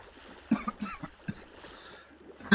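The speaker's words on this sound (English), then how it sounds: "Apologize if you might hear me coughing quite a bit." A man coughs indoors while sick, a few rough, throaty bursts spaced apart, close to the microphone, with a louder cough at the very end.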